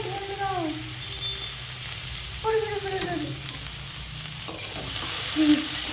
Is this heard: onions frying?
yes